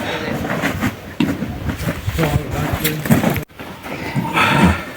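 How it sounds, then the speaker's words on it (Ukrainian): Harnessed draft horses hauling firewood clop and snort close by, with hooves thudding steadily while people talk over them. "запрягли коні і їдемо у ліс"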